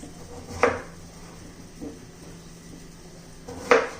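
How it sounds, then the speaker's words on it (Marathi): A knife chops peeled potatoes on a board in a quiet kitchen: three separate knocks spaced over a few seconds, the first and last sharper and louder, with a softer one between. "बटाट्याची साल काढून झालेली आहे आपण या चिरून घेऊया"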